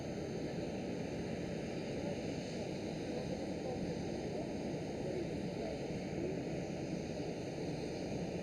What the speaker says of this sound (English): China Airlines A350 taxiing out for departure